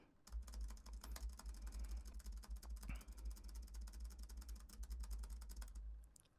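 Fingers tapping rapidly on a computer keyboard during a microphone test, a quick irregular stream of faint clicks over a low steady hum, with no one talking.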